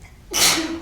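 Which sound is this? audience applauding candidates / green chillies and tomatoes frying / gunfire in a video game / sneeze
sneeze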